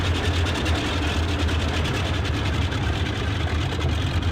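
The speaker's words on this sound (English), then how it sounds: "I'm out here with these big engines thumping away" Boeing 247D piston engines drone steadily in a flight simulator, a loud continuous low rumble with a constant throb that fills the whole stretch without pause.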